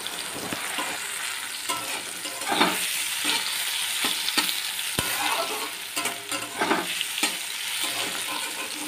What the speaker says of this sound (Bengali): পটলটা একটু ভালো করে লাল লাল করে সুন্দর করে ভেজে নিতে হবে